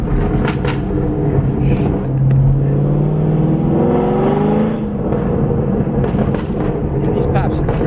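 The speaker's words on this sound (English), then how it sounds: "these are the pops I really like on my car." 2017 Chevrolet Camaro 2SS with a modified exhaust, a loud engine drone rising and falling in pitch with sharp crackling pops in between, heard close throughout.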